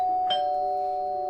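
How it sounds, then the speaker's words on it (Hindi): A single doorbell chime rings close and clear, with a bright tone that holds and slowly fades. "तभी डोरबेल बजती है।"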